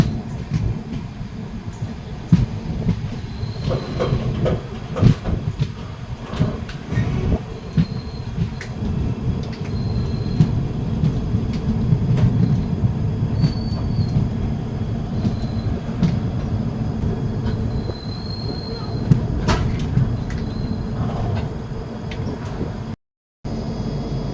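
The Doon Express passenger train rolls into Jwalapur station at dawn, a steady loud rumble of wagons with repeated wheel clicks and occasional faint squeals running throughout, heard close from on board.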